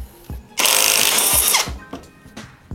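Workshop tools grind and ratchet while the fan pulley comes off a carbureted Honda Vario scooter: a loud sustained whirring burst of a power tool, framed by sharp metallic clunks and clicks close by.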